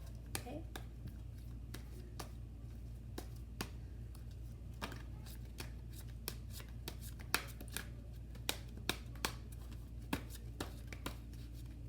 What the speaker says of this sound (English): I'm going to shuffle, and whatever cards jump out, I will use it for your reading